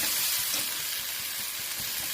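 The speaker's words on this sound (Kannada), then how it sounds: "ಬದನೆಕಾಯಿ ಪಲ್ಯ ಒಗ್ಗರಣೆ ಹಾಕಿದ್ದೀನಿ" Spices tempering in hot oil for an eggplant (badanekai) palya stir-fry give a steady broadband sizzle with faint low crackles, close and continuous, with no talking.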